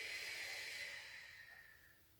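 A single long, soft exhale during a stretching exercise, a breathy hiss that fades gradually over about two seconds, close and quiet.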